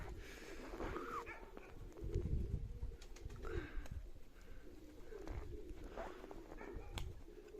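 Baku pigeons flying in a snowy frost, with soft wing flaps and faint coos amid outdoor wind noise, quiet and intermittent.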